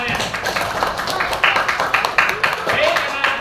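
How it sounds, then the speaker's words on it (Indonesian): Schoolchildren in a classroom clapping their hands, sharp scattered claps bursting out unevenly under an ongoing voice. "boleh tepuk tangan untuk semuanya"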